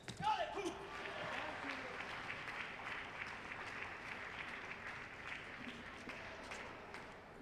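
Chinese supporters at a Paralympic table tennis final between Poland and China chant a rhythmic cheer with clapping, a crowd sound spread through the hall and sustained across the whole stretch under a commentator's voice.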